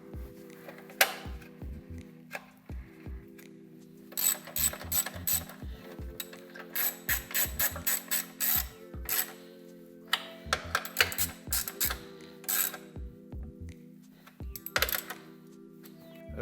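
Ratchet cranking a nut tight to bolt the ignition coil onto the frame of a Honda CT90 Trail 90 motorcycle, quick bursts of close clicking separated by short pauses, with no talking.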